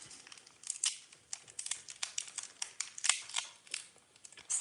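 Cardstock being folded and creased by hand for a handmade stamped card, a close, quiet run of crinkles, rustles and short taps with no talking.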